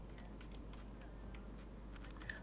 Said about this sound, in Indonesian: setelah itu kita ketikkan enter